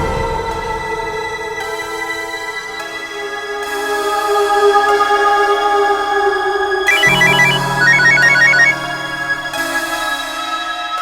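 A phone ringtone plays continuously for an incoming call, a bright, loud electronic melody with layered tones that shifts partway through and keeps ringing without pause.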